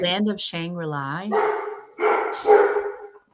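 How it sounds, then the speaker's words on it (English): Dogs bark outdoors, somewhat muffled and in the background, while someone talks over them in the foreground. "Oh, my dogs are like going ape out there."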